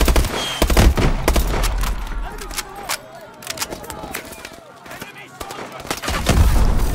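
Machine gun fire in the video game Call of Duty: Advanced Warfare: sharp, loud rapid bursts and single shots crackle close by, with voices shouting over the gunfire.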